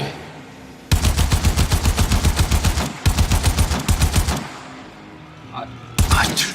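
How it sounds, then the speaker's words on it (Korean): Rapid automatic gunfire from the video game Warframe crackles in two long, loud bursts of evenly spaced shots, followed by a brief lull with faint game sounds before another burst starts. "총 쏘고 다니자"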